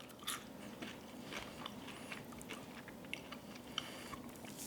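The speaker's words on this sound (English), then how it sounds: "The skin is nice and crunchy." Teeth bite into crunchy skin on smoked Thanksgiving turkey, with a few close, crisp crackling crunches and soft chewing and no voices.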